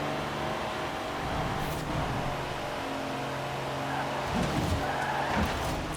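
Race cars in the video game Forza Horizon 4 roar at high speed on a highway, engine tone shifting as gears change, with tire noise and a brief skid-like swell, continuous and fairly loud.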